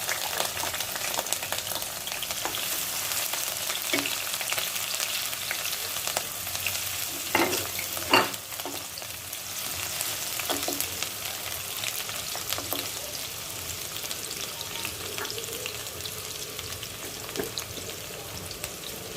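Chopped small onion frying in hot oil with green chillies for kabuli chana ghugni, a steady loud sizzle throughout with a few sharp utensil clicks and scrapes near the middle, no voices.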